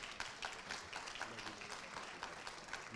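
A seated audience applauds a speaker being introduced at a talk on healing and spirituality, steady soft clapping heard faintly from a distance throughout.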